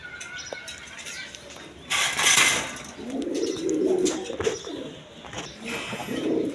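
A red-coloured pair of king pigeons coos softly in low, rolling bursts close by, with brief rustles and a louder broadband burst near the start.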